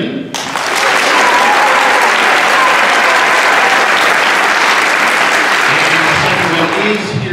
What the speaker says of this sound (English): how's about a nice round of applause for Devin Milliman?